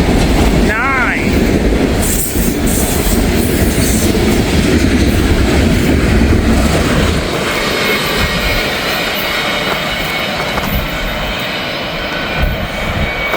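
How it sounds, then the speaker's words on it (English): A long, heavy Wisconsin Central freight train rumbles past close by, a loud continuous roar of wheels and cars with a brief squeal near the start, staying steady before easing slightly toward the end. "It's a big train. More Wisconsin Central."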